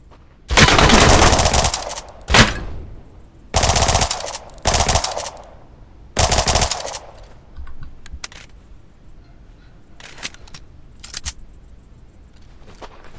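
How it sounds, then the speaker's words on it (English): Gunfire in the survival shooter Deadside: loud, close bursts of automatic fire in several separate volleys, followed by fainter, more distant single shots and clicks, with no talking. "Don't know who the hell shot at me now"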